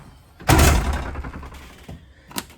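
A school bus door opens with a loud thump and rattle of the mechanism, followed by a smaller knock a couple of seconds later, close and without talk.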